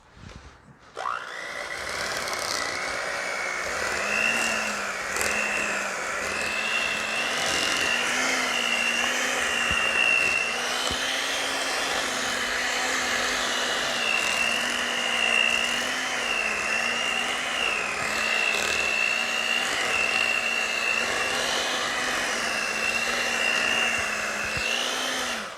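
An electric mixer whirs steadily through keto cheesecake batter, a loud continuous motor whine that holds nearly constant pitch for the whole stretch with small wavers as the load shifts.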